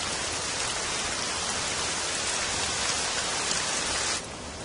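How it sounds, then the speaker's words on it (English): Steady rain pours down in the wild at the start of the wet season, a dense, even hiss of drops that stays loud and constant, then eases slightly at the very end. "By morning, rain is falling steadily."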